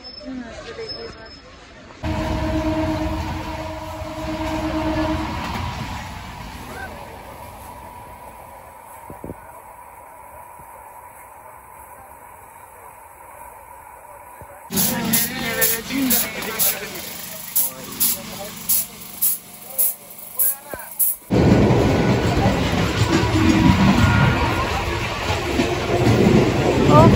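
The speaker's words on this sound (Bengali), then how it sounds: "দেখা যাক কখন আসে ট্রেনটা।" A commuter train pulls into a crowded station platform, with a low rumble followed by a run of rhythmic clacks and a loud rush of noise, while people talk nearby.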